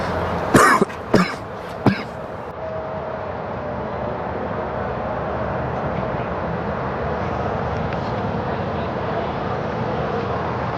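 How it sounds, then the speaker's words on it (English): A person coughs about three times in quick succession close to the mic, then only steady background noise from a high school baseball game between Delbarton and Don Bosco Prep continues. "I keep coughing."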